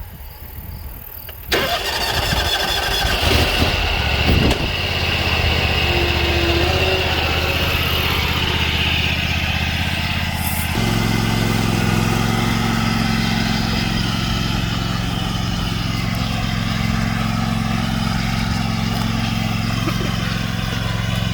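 A riding lawn mower engine starts after some clicking and handling noises, then settles into a loud, steady idle rumble that runs on alone.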